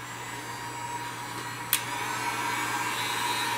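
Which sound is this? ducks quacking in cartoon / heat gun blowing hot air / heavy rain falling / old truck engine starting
heat gun blowing hot air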